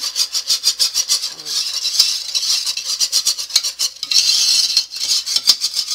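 Rapid metal scraping and clinking as flour is stirred into butter or margarine in a pan to cook a roux for white gravy, a steady busy rattle running throughout with no talking.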